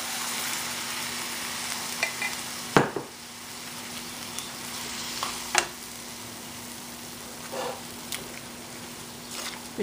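A vegetable and meat stir fry with sauce, with pasta added, is stirred in a pan: a steady soft sizzle runs throughout, with a few sharper scraping strokes of the utensil standing out.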